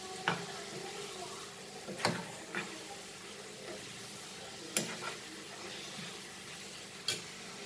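Chili and mixed vegetables fry in masala in a pan, a soft steady sizzle broken by several sharp scraping clinks of stirring.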